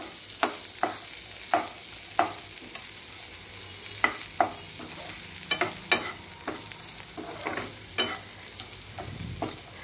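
Corn kernels frying in a pan with pepper and salt, heard as a soft steady sizzle broken by repeated sharp scraping stir strokes, close and moderately loud, with no talking.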